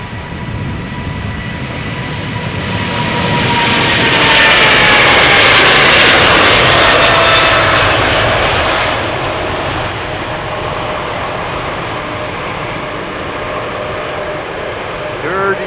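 Jet airliner departing Amsterdam Schiphol Airport, heard up close: a loud, broad engine roar swells to a peak midway, then eases off into a sustained rumble, with no talk over it.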